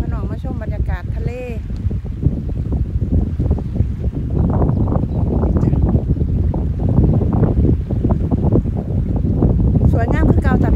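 Strong wind buffets the microphone by the sea in Denmark at night, a steady loud rumbling roar with gusts throughout, while someone talks over it.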